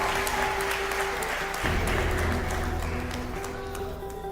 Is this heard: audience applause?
yes